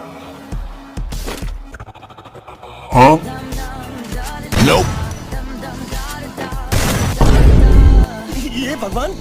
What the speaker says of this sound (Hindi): लगता है शॉटगन का असली पावर दिखाना पड़ेगा।